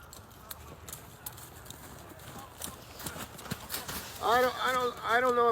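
A horse's hooves clip-clop around an arena rail, dull irregular strikes that grow louder and closer toward the end, with a voice sounding over them.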